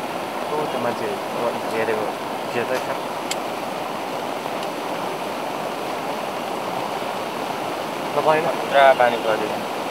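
Floodwater of the swollen Manohara river rushes past in a steady, loud roar near a bridge, with voices talking faintly over the constant churn.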